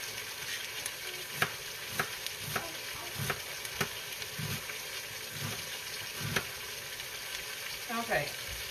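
Chopped onion, about two cups, sizzling in a pot for homemade chicken noodle soup, with a steady frying hiss and scattered clinks and scrapes of stirring, fairly close and moderately loud, no voices.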